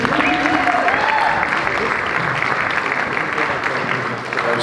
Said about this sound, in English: Big round of applause for Benito.